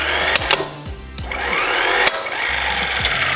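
Wheel nuts on an off-road vehicle's wheel are tightened with a power tool in short bursts, each a brief whirring rise with sharp clicks and clunks between, close and fairly loud.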